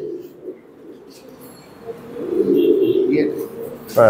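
A tiny young pigeon on a farm gives soft, low coos that swell into a fuller burbling call near the end, close by and fairly clear.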